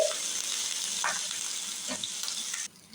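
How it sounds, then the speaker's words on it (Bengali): Spices sizzle loudly in hot oil in a pan in a home kitchen, a steady close frying hiss with a few soft stirring scrapes, cutting off abruptly near the end. "মশলা আমি ভালো করে ভেজে নিচ্ছি"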